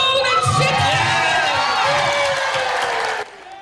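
An auction crowd cheers, whoops and applauds after Oprah Winfrey's sale, a loud, dense, sustained roar of voices and clapping that cuts off abruptly near the end.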